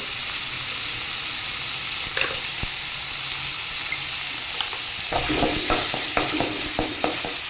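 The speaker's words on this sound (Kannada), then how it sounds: "ಇನ್ನು ಇದು ಚೆನ್ನಾಗಿ ಫ್ರೈ ಆಗಲಿ." Food frying in a hot pan after salt is added, a constant bright sizzle throughout, with a few clicks and stirring scrapes near the end, close and with no talk.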